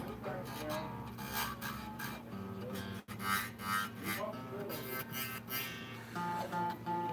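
A file rasps back and forth across the nut of a 1965 Fender Mustang guitar in short rubbing strokes. Someone talks over the filing.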